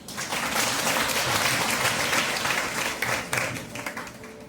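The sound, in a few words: congregation applauding loudly during sermon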